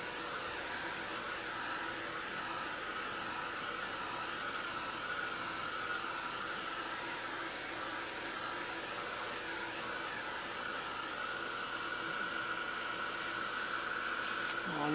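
Steady, quiet blowing hiss of a dryer aimed at wet gesso on a muslin art journal page, continuous and unchanging throughout without speech.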